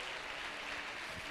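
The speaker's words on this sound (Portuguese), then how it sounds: "Você pode aplaudir ao Senhor?" Church congregation applauding, a dense, steady wash of many hands clapping together at even loudness, filling the room without a break.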